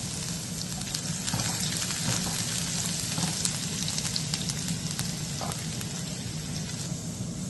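Finely chopped garlic frying in hot oil after mustard seeds have popped, a steady dense sizzle with scattered crackles and pops, continuous and fairly close with no talking.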